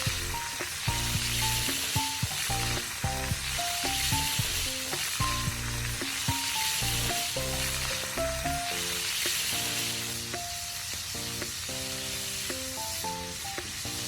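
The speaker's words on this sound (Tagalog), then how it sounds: "isi-sear natin ang minarinade na chicken legs" Marinated chicken legs sear in about three tablespoons of hot cooking oil, a loud, continuous close sizzle with crackling pops and occasional clinks of a utensil against the pan, with no talk.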